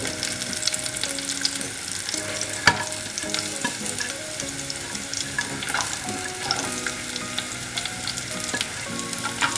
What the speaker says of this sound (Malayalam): ഇത് നന്നായിട്ട് വഴറ്റി കൊടുക്കുക.